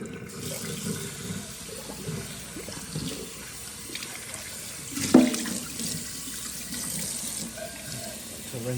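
Tap water runs steadily into a kitchen sink during dishwashing, a continuous hissing splash with a brief louder clatter midway.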